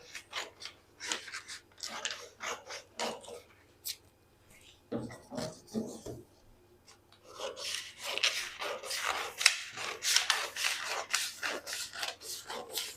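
Scissors snipping through suit jacket sleeve fabric, a series of short crisp cuts close by, pausing briefly and then resuming in a faster run of snips, with faint low room hum beneath.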